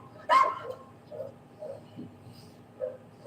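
A dog gives one sharp bark, then several softer yips and whimpers at moderate distance, with a steady low hum underneath.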